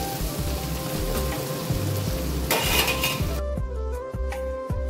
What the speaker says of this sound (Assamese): আৰু এইফালে সৰু আলুৱে ফেনপিনে ভাজি আছোঁ